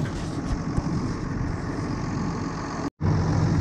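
A tractor engine runs steadily while ploughing in a field, a constant broadband rumble with a low throb, close to the microphone and cutting out briefly near the end; no one speaks.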